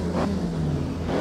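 Open-wheel race car from the 1967 Tasman Series at Teretonga in Assetto Corsa, engine droning loudly at steady revs with a brief surge, close and continuous.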